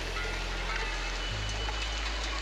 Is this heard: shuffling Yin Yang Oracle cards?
no